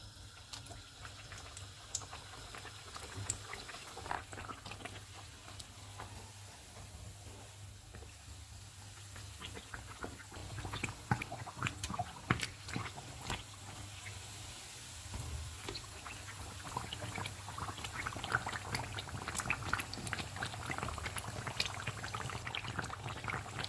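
Naan pakora pieces fry in hot oil over a medium flame, a continuous quiet crackle and bubbling with sharper spits and pops growing busier toward the end, no voices.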